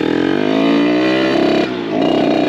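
A Derbi motorcycle engine runs close by with a steady, loud harmonic drone that briefly dips and picks back up; the owner suspects dirt getting into the carburetor because the bike has no mudflap.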